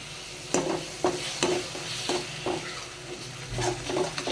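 Food frying in oil, stirred at a steady pace. Repeated scraping strokes land about every half second over a continuous close sizzle, with no talk.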